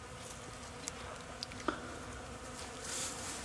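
Honeybees from colonies that survived a varroa mite infestation hum faintly and steadily in a hive, with a few brief ticks and knocks over the buzz.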